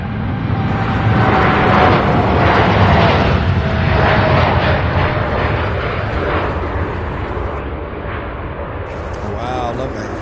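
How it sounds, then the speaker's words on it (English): A jet airliner roars through its takeoff at Louisville International Airport, a loud sustained rumble with a rising engine whine that holds steady throughout, heard with nobody speaking. "look at that beautiful takeoff, my goodness"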